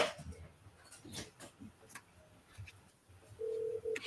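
An incoming telephone call on a live training call line, heard as a short electronic ring tone near the end over faint background noise and brief voice sounds.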